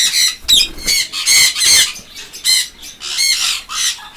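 Semi-adult red factor sun conures, about a year to a year and a half old, squawk in a run of loud, shrill, repeated bursts at close range, with brief gaps between calls.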